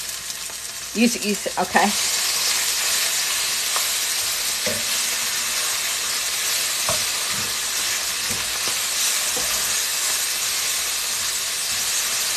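Ground beef sizzles and fries steadily in a hot cast iron pan for chili, a continuous loud hiss with a few clatters of a utensil breaking it up early on, and brief talk near the start.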